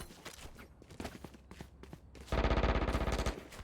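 Gunfire in the GTA 5 video game: scattered lighter shots and thuds lead into a loud, sustained burst of rapid automatic fire that lasts about a second before cutting off.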